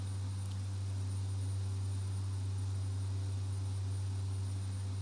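Steady, even drone of an aircraft engine in flight in the X-Plane 10 flight simulator, heard alone with no talk, a constant low hum holding at one level throughout.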